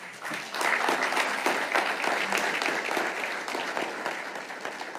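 An audience at the opening ceremony of the CFATF 55th Plenary Meeting in Grand Cayman applauds, a sustained wash of many hands clapping that swells and holds evenly, moderately loud and without talk.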